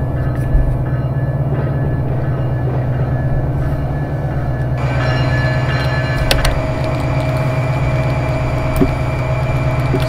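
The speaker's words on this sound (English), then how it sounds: "Hey, train!" A train rumbles past at close range for the whole stretch, a steady heavy drone with low rail noise that thickens midway as the cars roll by, with no talk over it.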